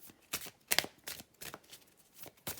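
A deck of cards being shuffled in several quick riffling bursts, crisp and close, separated by short pauses, with no voices.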